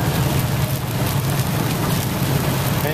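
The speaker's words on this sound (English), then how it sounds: "lovely rainy day on the way to work." Steady heavy rain during a rainstorm on a drive to work, a dense continuous hiss of drops hitting surfaces, loud and close with a low rumble underneath and no talking.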